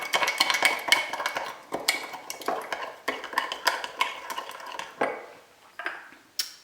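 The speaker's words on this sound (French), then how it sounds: "vous ajoutez votre jaune d'œuf. Vous mélangez bien." Utensil stirring egg yolk into cookie mug batter, with rapid clinking and scraping against the mug in quick bursts, close and alone, slowing and pausing near the end.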